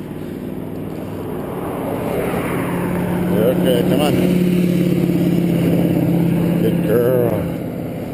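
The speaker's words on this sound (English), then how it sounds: "Loud car coming." A loud vehicle, likely a truck, rumbles past on a road with a steady low engine drone that swells and fades, while a person speaks calmly to a dog over it.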